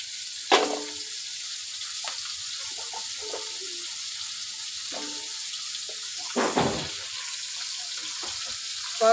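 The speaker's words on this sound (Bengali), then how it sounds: "আমি করলা ভাজা নেব।" Bitter gourd (karela) slices sizzle steadily in a frying pan, a soft continuous hiss broken by a few light utensil knocks, with no talking.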